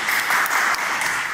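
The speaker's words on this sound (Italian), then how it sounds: "facciamo un applauso." Brief burst of audience applause at a singing talent show, a dense, even clatter of many hands clapping, close and steady for just over a second.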